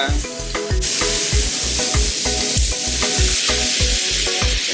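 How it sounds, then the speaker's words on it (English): Steak sears loudly in a hot pan, a dense close sizzle with rhythmic, repeated scraping or tapping strokes throughout and no voices. "I like to seal all my meat on all the sides."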